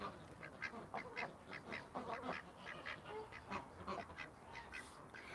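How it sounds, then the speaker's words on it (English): Several ducks call from the water, a run of repeated quacks and honks spread through the scene at moderate distance, steady and fairly soft over a low outdoor background. "Little ducks."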